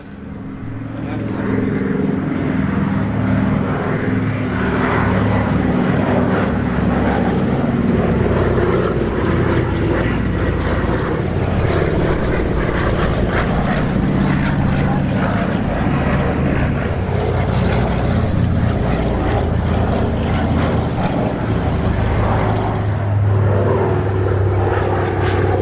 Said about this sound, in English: we still had a fly past of the D-Day Dakotas